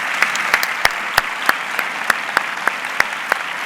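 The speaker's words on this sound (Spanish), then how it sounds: "un fuerte aplauso para ellos" An audience at a Spanish-language talk on diabetes technology applauds the presenters, a soft, steady wash of clapping broken by a series of sharp, evenly spaced louder claps close by.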